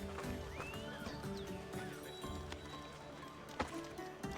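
Phobos, a horse with a legendary skin, gallops in the video game Assassin's Creed Odyssey, with a brisk, steady clip-clop of hooves close by and faint ambient game sound underneath.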